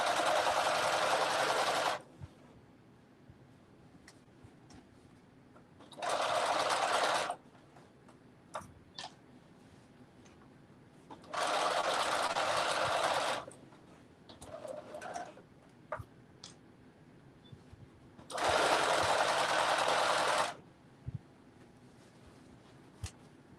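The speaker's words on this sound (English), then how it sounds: "now we're going to go into the basting stitch" A sewing machine runs a basting stitch on a tunic in four steady bursts of about two seconds each, with quiet pauses and faint small clicks between them.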